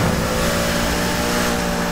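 A Volkswagen Beetle tuned to 600 HP accelerating hard with nitro in the video game Need For Speed Heat, a loud, steady engine roar with sustained tonal whine, continuous and close with no speech.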